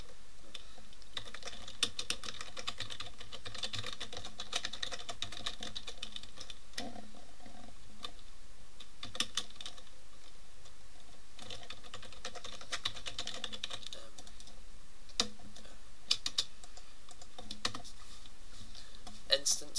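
A computer keyboard clicks in irregular bursts of typing while a Roblox Lua script is written, light keystrokes continuing steadily close to the microphone with some background voice at times.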